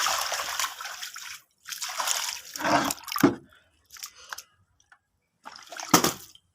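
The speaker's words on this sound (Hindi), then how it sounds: "अब मैं ये इस पर पानी डालूंगी" Clean water is poured by hand over a folded cloth during home cleaning, giving several separate splashing and trickling bursts with short silent gaps between them, close and fairly loud.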